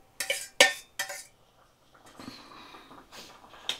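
Fried prawns, four of them, dropped into a cooking pan, giving a few sharp clinks and clatters close by, then a softer low sizzle and scraping that carries on quietly.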